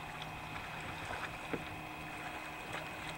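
Kayak paddling on Malaspina Inlet en route to Desolation Sound: steady water and boat noise with faint soft splashes from paddle strokes, one slightly louder dip, under light wind, no talking.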